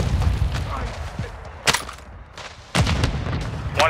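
A grenade goes off in Warzone 2.0 DMZ: two sharp, booming bursts land about a second apart, set against a rumbling game backdrop with some voices.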